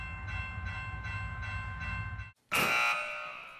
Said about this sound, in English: whoever rang my buzzer